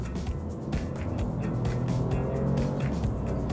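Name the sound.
Alfa Romeo Junior car accelerating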